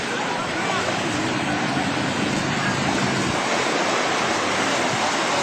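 Water from the 2004 tsunami surges and crashes in a constant, loud, roaring rush, with wind buffeting the microphone and no pauses throughout.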